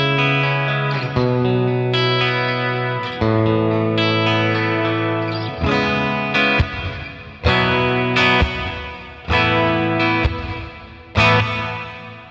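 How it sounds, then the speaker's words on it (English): A distorted electric guitar plays sustained chords and notes through a Red Panda Context reverb pedal in cathedral mode, each strum blooming and lingering into a long wash. "And then we have the cathedral reverb mode."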